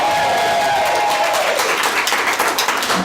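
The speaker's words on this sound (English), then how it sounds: "Can you guys cheer something for the podcast?" Live conference audience of about seventy people in San Diego cheering and applauding, a loud burst of whoops and a rising voice giving way to sustained, dense clapping.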